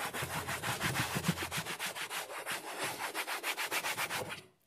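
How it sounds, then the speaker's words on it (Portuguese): Interior plastic car parts being scrubbed clean with soap and a brush, a fast rhythmic back-and-forth rubbing that repeats steadily at close range, with no voices. "Só esfregar."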